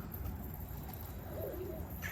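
Pigeons cooing softly in a loft setting, a faint low murmur of calls under steady background noise.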